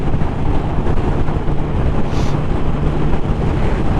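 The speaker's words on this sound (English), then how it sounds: "A lot of wind at the speed." Steady, loud wind buffeting a helmet microphone while riding a 2016 Suzuki GSX-R750 at speed on a dual carriageway, a continuous broadband roar with no talk.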